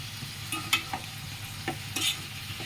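Curry ingredients fry in a pan with a steady, fairly loud sizzle, while a spatula scrapes and taps through them in a few distinct strokes; no voices are heard.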